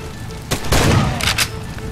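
Shotgun blasts in the Far Cry 2 video game during a stormy night fight, a loud booming burst followed by a second report, heard close with no talk.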